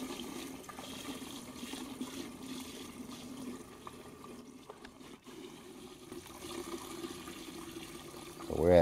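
Water runs steadily into a bucket during a yard drainage test, a continuous trickling and splashing fill with a person speaking briefly over it.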